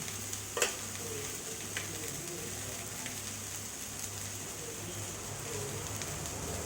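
Onions sautéing in a pan for sambar, a steady soft sizzle with a faint low hum and a few light clicks of stirring, no talk over it.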